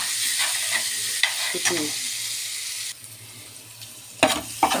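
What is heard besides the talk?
eggplant frying in a pan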